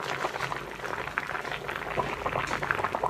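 Water boils steadily in a covered pot holding mushrooms and tofu, a dense, close bubbling and rolling simmer with no pauses.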